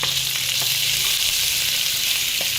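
Chopped curry leaves, green chillies and ginger sizzle steadily in hot oil, a loud, continuous frying hiss with occasional faint stirring taps.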